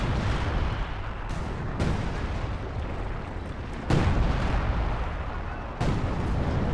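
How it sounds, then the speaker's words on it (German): Heavy blasts and rumbling booms from an air strike destroying a tank in the WWII strategy game Company of Heroes 2, dense battlefield noise with sharp surges of detonations, no talking. "aber den einen Panzer habe ich durch den Luftschlag zerstört"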